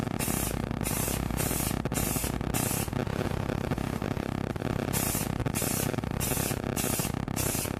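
A spray can coats a mason jar for a Halloween jack-o'-lantern craft in loud, close hissing bursts, several short sprays separated by brief pauses, with no speech.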